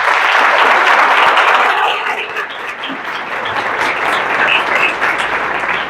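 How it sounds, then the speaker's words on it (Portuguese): Audience at a FATEC lecture on career management applauding Yuri: dense, loud clapping from many hands that eases slightly midway and then swells again. "Salve de palmas para o querido Yuri."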